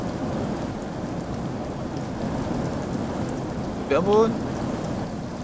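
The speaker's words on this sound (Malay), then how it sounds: "Hujan lebat." Heavy rain hisses steadily throughout a stormy night scene in the horror video game Fears to Fathom, and a short rumble of thunder swells up briefly near the end. A voice speaks faintly underneath the rain.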